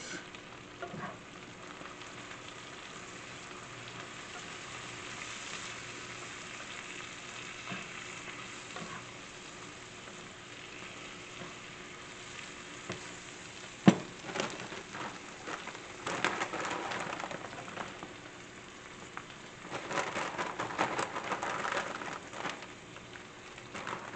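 Bacon and spinach fry in a pan with a steady, moderate sizzle that runs throughout. A sharp clink comes midway, and the crackling grows busier toward the end, with no talking.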